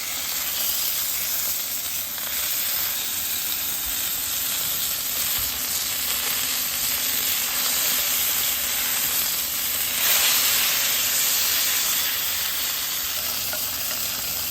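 Picanha sears on a flat griddle in melted butter with garlic, giving a steady, loud sizzle and hiss that runs without a break for the whole stretch and swells a little near the end.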